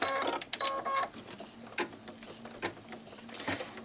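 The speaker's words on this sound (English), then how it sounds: "put it back in the machine. And I think I'm on color stop number 14 of this design, and I'm going to tack this in" An embroidery machine stitching a tack-down line through a hooped quilt block, rapid mechanical needle clatter in short bursts with pauses between, close and moderately loud.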